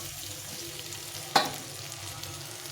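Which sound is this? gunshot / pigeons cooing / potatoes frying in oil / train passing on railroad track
potatoes frying in oil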